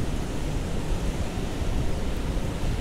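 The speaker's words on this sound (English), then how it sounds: "Here come the waves." Ocean surf on the beach at Port Aransas, Texas, makes a continuous broadband wash of breaking waves, steady and fairly loud with wind mixed in and no talk.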